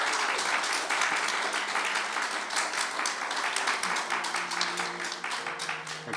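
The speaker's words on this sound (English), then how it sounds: "Can we give Nick a big round of applause?" An audience at a live podcast recording gives a big, sustained round of applause, dense clapping that holds steady from start to end with faint voices underneath.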